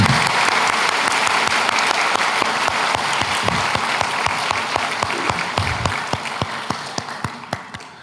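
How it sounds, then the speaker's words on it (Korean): A church congregation applauds to welcome middle and high school students at a worship service, a full wash of clapping that gradually thins toward distinct individual claps as it fades out. "여러분 박수로 우리 환영하도록 하겠습니다."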